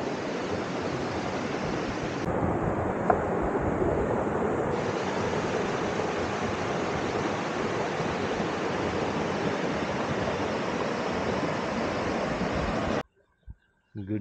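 The famous waterfall at Shila near Padum in Zanskar, a loud, constant broadband roar of falling water heard close up for about thirteen seconds before cutting off abruptly.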